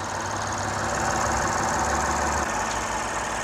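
A steady 3.5-litre car engine idles at close range, a continuous low hum with a faint knock and no voices.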